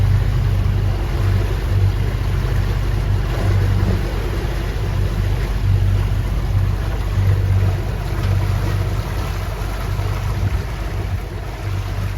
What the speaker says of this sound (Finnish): Sitten loppumatka mentiinkin moottorilla Sandhamniin.